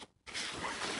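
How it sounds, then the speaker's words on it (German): A zipper being pulled open on a Jack Wolfskin ACS Photo Pack Pro camera backpack, with a short tug followed by one steady close rasping pull lasting under a second. "sondern mit einem Reißverschluss direkt auf zugreifen kann."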